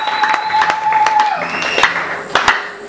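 A church congregation claps and cheers, a busy wash of hand claps with sharp individual slaps over a sustained tone, loud and close throughout.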